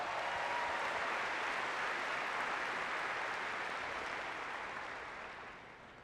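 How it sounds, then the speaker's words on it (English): A college basketball crowd at a Butler senior day applauds, a dense, steady wash of clapping that holds loud for several seconds and then gently fades. "So give you guys a round of applause"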